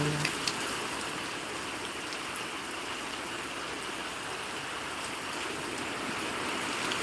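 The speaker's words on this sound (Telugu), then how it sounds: "ఇంత వర్షం పడుతుంది చూడండి" Steady, dense rain pours down in a continuous broadband hiss, with a few sharper drips and splashes near the start.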